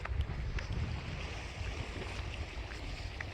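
A river in full flood rushes past as a dense, continuous roar of moving water, with low rumbling and wind buffeting the microphone.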